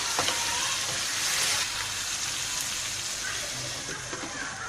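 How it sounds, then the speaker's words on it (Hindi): Potatoes frying in a pan for an aloo methi dish, a continuous close hiss and sizzle with faint stirring and no talk. "तकरीबन 1 से 2 मिनट हमें इसे अच्छे से भूनना है"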